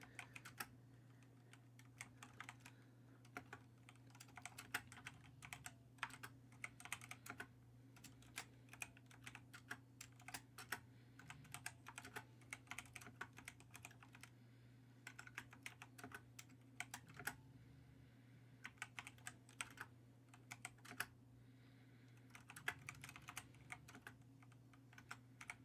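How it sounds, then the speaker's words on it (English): Steady typing on a computer keyboard, quick irregular key clicks running continuously at close range over a low constant hum, with no voices. "Is my typing too loud now?"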